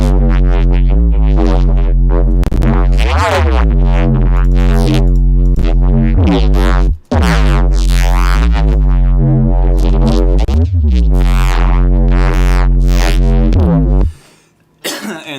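A buzzy, harmonically rich synth bass run through a saturator plays a repeating pattern of sustained notes, gritty and overdriven throughout, loud and alone, cutting off near the end.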